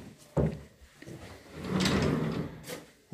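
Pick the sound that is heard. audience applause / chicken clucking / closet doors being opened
closet doors being opened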